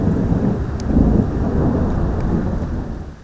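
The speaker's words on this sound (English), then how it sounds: "We heard lots of thunder just like that throughout last night, and lightning lit up the skies." Deep thunder rumbles on and off through a nighttime storm with rain falling steadily, loud and close throughout.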